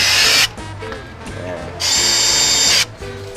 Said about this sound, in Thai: ผมมีสว่านไฟฟ้าที่เป็นวัดปอนได้นะครับ